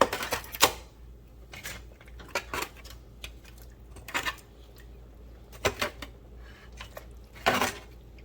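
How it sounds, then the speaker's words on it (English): Beef soup bones clatter into a metal pot for Cambodian kathiew noodle soup, several sharp knocks and clinks spaced irregularly over quiet kitchen background. "Now we're going to add in our beef soup bones."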